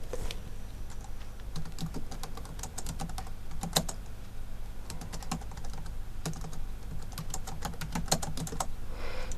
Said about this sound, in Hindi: इस प्रकार से मैंने इसे टाइप किया।